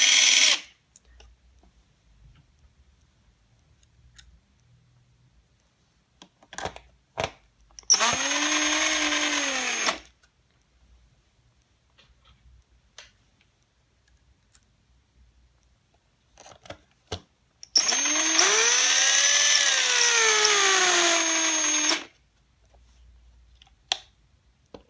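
Screws are driven into a Hori Myoungshin arcade stick with a power driver: two whirring bursts of a few seconds each, separated by quiet stretches with scattered clicks and handling noises.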